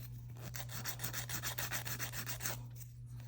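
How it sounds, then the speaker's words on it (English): Electric nail drill buffing acrylic nails, a faint steady rubbing and rasping with quick repeated strokes over a constant low motor hum, with no speech. "I'm going to go back over it with the drill anyway"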